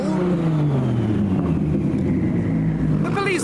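A Nissan Skyline R34 drives away from a Japanese car show, its engine a strong, steady drone that slowly falls in pitch as it passes, with a brief higher rev near the end.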